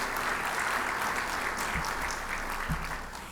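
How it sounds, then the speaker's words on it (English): Audience applause at a scholarship dinner, a steady wash of many hands clapping in a large room, moderately loud and even throughout, with a couple of low thumps. "Yes, that deserves an applause."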